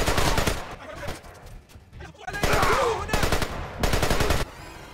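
Gunfire in Splinter Cell Conviction, set in Diwaniyah, Iraq: loud, close bursts of rapid automatic shots in rattling volleys, broken by a short lull, then more sustained firing before a quieter tail.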